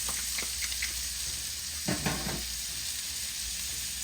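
Onions hit melted butter in a hot cast iron skillet, setting off a dense, even sizzle with a short stirring scrape near the middle, close and steady without speech.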